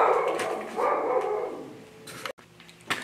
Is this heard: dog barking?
yes